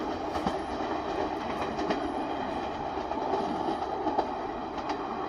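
A train passes at Ban Khu Bua in Ratchaburi, Thailand, in the morning, with a steady rolling rumble and faint rhythmic wheel clatter heard from a moderate distance and no talking.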